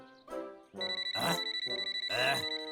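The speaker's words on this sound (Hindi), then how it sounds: "सुनने में लगा जैसे मोबाइल की घंटी बज रही है।" A mobile phone ringing in a Boonie Bears cartoon plays as a bright, repeating electronic ringtone. Tones pulse rapidly in two loud bursts over musical accompaniment, with no talk.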